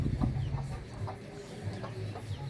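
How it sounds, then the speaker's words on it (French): A black hen clucks in short, repeated bursts, fairly close and alone, with low farmyard background noise throughout. "C'est une poule noire. Elle est mal commode, cette poule-là."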